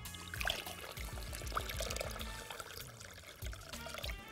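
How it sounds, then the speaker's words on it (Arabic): Water pours and splashes in a steady stream into a jar of onions with salt and vinegar for pickling, with small gurgles and drips throughout, fairly close and moderately quiet. "بنكمل ميه لغايه ما يتغطى"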